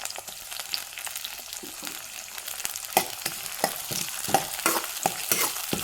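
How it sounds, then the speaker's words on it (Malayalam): Green chillies and curry leaves sauté in hot oil for a fish curry, a steady sizzle broken by repeated sharp scraping stirs of a spoon against the pan, close and fairly loud with no talking. "ഒരു ബ്രൗൺ കളർ ആവുന്നിടം വരെ നമുക്ക് വഴറ്റി കൊടുക്കാം"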